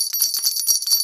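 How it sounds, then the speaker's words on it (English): Small bell jingling inside a woven willow hamster chew toy: bright, rapid tinkling that keeps ringing throughout as the toy is shaken, close and fairly loud, no speech. "It has like a little bell in there also, and it's made out of willow"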